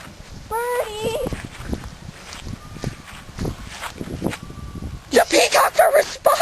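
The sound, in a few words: peacocks calling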